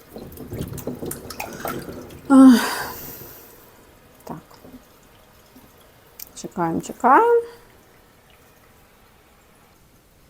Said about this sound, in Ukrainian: Потім я додаю фільтрованої води.